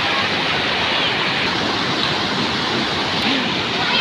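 A mountain waterfall surging after rain at a former collapsed bridge, steady loud rushing water filling the whole span, close and unbroken.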